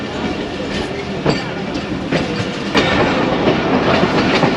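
Jaffar Express passenger train rolling on single-line track near Gujranwala, a steady loud rumble of wheels with irregular clickety-clack joint impacts and brief metallic clatters, continuous throughout.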